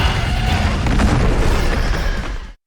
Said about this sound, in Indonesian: Sang naga roboh ke tanah dengan dentuman berat.